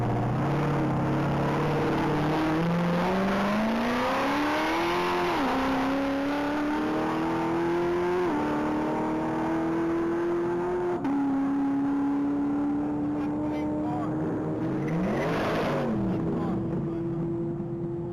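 A 2018 Corvette Z06 screams down a mile-long top-speed track, its engine note climbing through several gear changes, loud and sustained, then a whooshing pass near the end.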